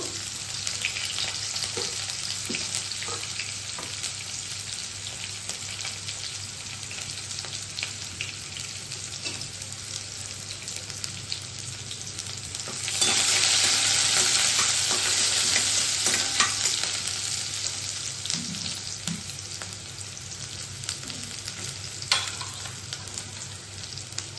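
Onion and curry leaves frying in hot oil in a pan, a continuous loud sizzle with stirring scrapes throughout and a brief surge of hissing partway through.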